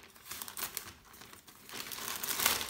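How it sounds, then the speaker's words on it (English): Packaging for Mealthy electric pressure cooker accessories being ripped open by hand, a close run of crinkling, tearing plastic and paper rustle that builds louder toward the end, with no talking. "Rip them open."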